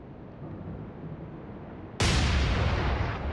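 Naval gunfire from a warship in the Atlantic Fleet game, a single loud, broad boom bursting in over a low rumbling background and then holding as a long, slowly fading roar.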